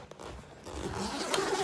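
Zipper drawn open on a padded shooting gear bag, a rough rasping pull that rises and grows louder over a second or so, close up.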